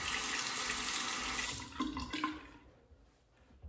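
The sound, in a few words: tap water running while rinsing a razor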